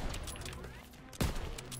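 Rapid gunfire in the World War II shooter game Call of Duty: WWII, during the Operation Cobra story mission, with a louder burst partway through over a busy background of battle noise.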